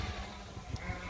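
Faint bleating from sheep standing in grass taller than themselves on a shaded silvopasture, a brief soft call or two heard at a distance under low ambient noise.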